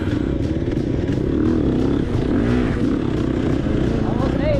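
Dirt bike engine revving and throttling on a rough hare scramble trail, a loud close rasping drone with clattering and scraping, and a rider talking over it.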